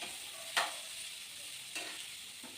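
Onions frying in a pan for a potato-and-pea kurma, a quiet continuous sizzle broken by a sharp crackling burst as curry leaves hit the oil, followed by two softer flare-ups later.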